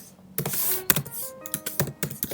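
Keys clatter on a computer keyboard as Python code is typed, a close, quick run of about a dozen uneven taps with brief pauses between bursts.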